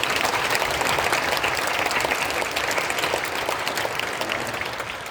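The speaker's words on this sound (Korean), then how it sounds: "먼저 하나님께 감사의 박수 한번 올리겠습니다" Congregation at a Korean prayer meeting commemorating the Korean War claps in sustained, even applause that slowly fades toward the end.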